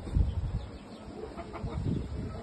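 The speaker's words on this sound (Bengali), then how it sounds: "কিছু মোরগ, পাহাড়ি মোরগের বাচ্চা, আমার এই মোরগের সাথে বাচ্চা" Rooftop roosters and hill rooster chicks give soft, low clucks in a few brief bursts over faint background noise, close but quiet.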